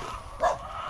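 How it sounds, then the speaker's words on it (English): A single short dog bark on a farm, a brief yip from some distance away, set against a low outdoor background. "Oh, we got doggy up there too."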